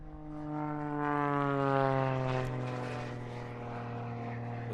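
An Extra 330SC aerobatic plane taking off at an aerobatics championship, a steady propeller drone with rising engine pitch that swells and then eases slightly as it climbs away, moderately distant.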